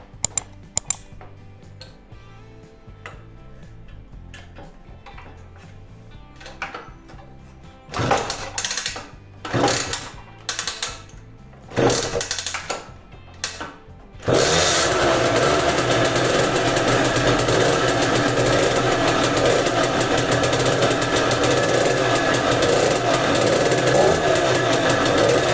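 A Malaguti Fifty scooter engine, still cold after carburettor and stator cleaning, is cranked in several short, uneven bursts that sputter and die, then catches and runs with a loud, steady buzzing idle for the rest of the clip.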